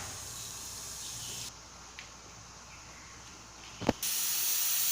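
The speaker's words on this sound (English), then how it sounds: "the water is boiling here. Now steam this for 20 to 25 minutes." Rava idli steaming in a pot over boiling water, a constant hiss of steam that drops in level partway, then a sharp clink and a louder hiss again near the end.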